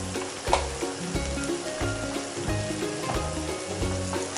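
Fried wonton filling with soy sauce and seasoning sizzles loudly in a pan while being stirred, with scraping and clinking of the utensil in an irregular rhythm.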